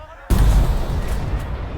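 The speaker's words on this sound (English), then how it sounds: "we're gonna send a mortar on these other dudes" A mortar round strikes with a sudden heavy boom in the Burden of Command war game, followed by a sustained rumbling roar that slowly fades, loud and close.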